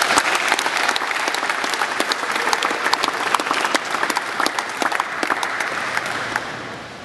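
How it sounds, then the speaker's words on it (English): Applause at a McMaster University men's basketball recruiting welcome rings out from a crowd of hands, steady and bright for several seconds before tapering off at the end. "Come on up, let's give Brett Sanders a round of applause."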